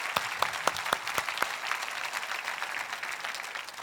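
A church congregation applauds together at a Sunday service, starting with a few sharp, distinct claps that blend into a steady, moderate patter of clapping.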